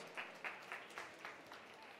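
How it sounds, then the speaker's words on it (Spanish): Scattered applause from an audience, a few distinct claps in loose rhythm, fairly faint and distant. "Recibamos con un fuerte aplauso"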